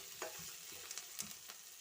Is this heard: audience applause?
no